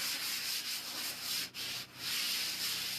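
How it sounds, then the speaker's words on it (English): Sandpaper rubbed steadily over waxed painted fabric, a close, continuous raspy scratching with brief pauses between strokes. "taking the sandpaper to it"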